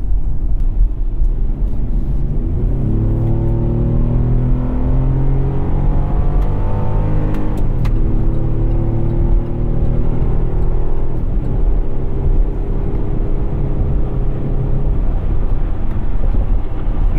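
Chevrolet Colorado ZR2 pickup towing a trailer at highway speed, with a steady engine drone and constant road and tire rumble throughout, shifting slightly in pitch midway as the engine note rises and falls.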